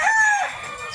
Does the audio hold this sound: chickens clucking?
yes